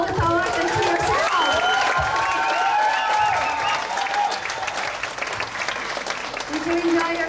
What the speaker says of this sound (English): Please give an applause to all the poets and to yourself.